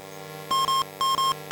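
Electronic warning beeps from the Spitfire 40 flight game on a retro home computer, two pairs of short shrill tones in a quick repeating pattern, clean and close.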